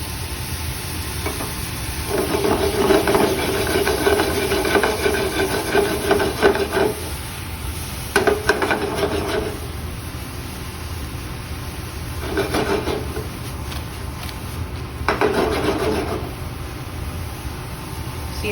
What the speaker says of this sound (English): Now I'm gonna deglaze the pan with some vegetable stock that I have.